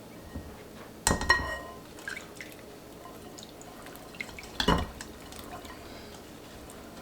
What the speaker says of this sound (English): I'm going to go ahead and pour some of this in here.